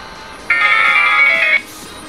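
A ringtone melody plays from a Vertu Signature S Design Silver replica phone, a bright sustained electronic tone lasting about a second, clear and fairly loud against a quiet background.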